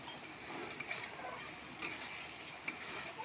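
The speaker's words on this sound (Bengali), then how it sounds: "মাছ ভাজা নিচে এখন তেলের সঙ্গে দিলাম কালি জিরা" Nigella seeds (kalo jeera) sizzling in hot oil in a pan where fish was fried beforehand, a steady close crackling hiss with a few small ticks and clinks of utensils, no talk.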